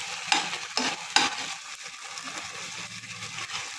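Gobi manchurian masala with tomato sauce being stirred in a hot pan, with a few sharp scraping strokes early on over a steady background sizzle.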